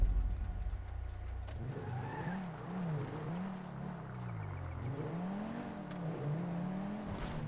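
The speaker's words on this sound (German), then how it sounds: "Hab auch mal kurz Lust, ein bisschen Auto zu fahren." Car engine in Grand Theft Auto 5 revving and rising in pitch as it accelerates, wavering with gear shifts over a steady road rumble, close and continuous with no talk.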